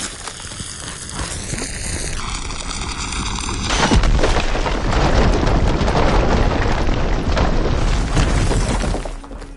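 A loud blast as something is blown up in a mecha video game: after tonal mechanical whines, a heavy explosion erupts into sustained roaring, crackling debris and rumble that fades away near the end.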